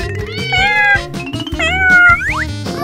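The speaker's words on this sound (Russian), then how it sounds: "кто потерял котят." Kittens meowing loudly and close, several high, drawn-out mews in quick succession, some rising sharply at the end, with no talking.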